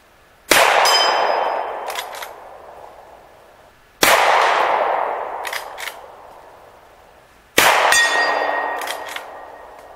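Three loud gunshots spaced a few seconds apart at an outdoor shooting range, each striking a steel target that rings with a bright metallic clang and decays slowly before the next shot.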